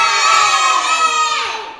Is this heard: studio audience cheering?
yes